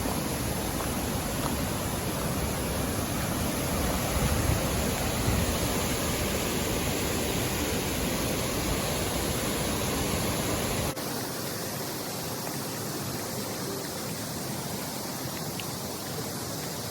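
Water pours steadily over Elliott and Twin Falls, a loud continuous broadband roar that holds for the whole stretch, with a slightly softer, duller wash after a cut partway through.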